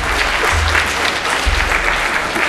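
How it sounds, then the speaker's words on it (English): An audience at a lightning talks session claps steadily for a talk, dense even applause at close range with a few heavier thumps mixed in. "let's give Josh a round of applause for his crazy,"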